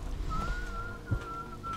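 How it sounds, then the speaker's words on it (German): Someone whistles in the stealth game Dishonored, a thin steady whistled tone held across most of the moment over a low ambient rumble, faint and distant, with no talking. "Da pfeift irgendjemand."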